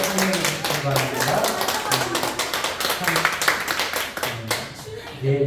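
Church congregation clapping in welcome during a Korean Sunday service, dense rhythmic hand claps running steadily throughout with a low tone beneath.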